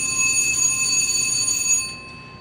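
Missile silo alarms ring with a steady, piercing electronic tone, holding constant and loud for almost two seconds before cutting off abruptly into near silence.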